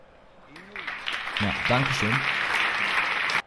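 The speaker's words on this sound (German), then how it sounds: "Also das ist ein Applaus wert" Applause from a few people in a room swells up and holds steady for a few seconds, then cuts off, while someone speaks briefly over the start.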